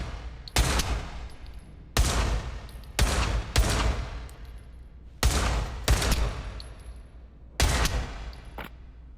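Gunfire at targets in a VR shooting game: about eight sharp, loud gunshots in irregular pairs and singles, each a broadband crack with a short decaying tail, with no talking.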